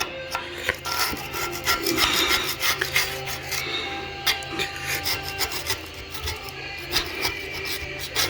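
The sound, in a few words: manually scraping grime off engine parts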